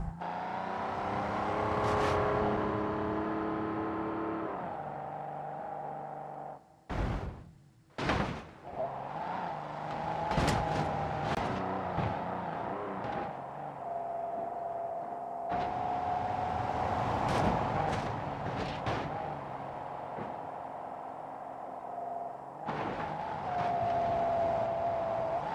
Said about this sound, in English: Next, very cool, very fast V12.